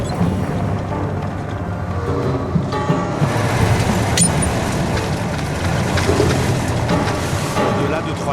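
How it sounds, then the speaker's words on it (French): A heavy old truck engine rumbles loudly and strains under load at high altitude on a mountain road in Tajikistan, a steady close drone with a voice speaking over it. "le vieux moteur commence à peiner. Le moteur gronde."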